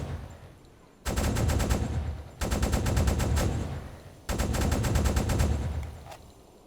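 The anti-aircraft gun on a WWII U-boat in the video game Uboat fires high-explosive rounds in three long, loud bursts of rapid shots, each lasting one to two seconds and separated by short pauses.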